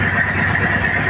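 A new engine on a service boat runs at a steady idle out on the open sea, a continuous close, loud mechanical drone with even low rumble and no talking.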